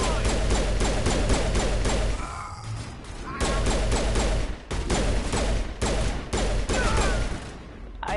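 Rapid gunfire in a Mass Effect firefight, sustained staccato bursts of shots separated by short pauses, loud and close throughout with occasional impacts between volleys.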